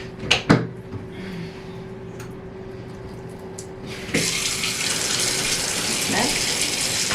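Tap water gushes into a bathtub being filled for a bubble bath, a steady broadband rush that swells louder about halfway through after a couple of brief knocks at the start, with no voices.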